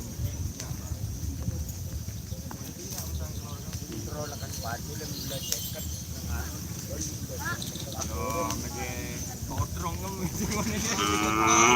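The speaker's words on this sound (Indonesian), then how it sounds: "Ini sapi favorit saya naga emas guys." Cattle moo and low in a busy outdoor field, the calls mixed into crowd noise and nearby talking, growing louder toward the end.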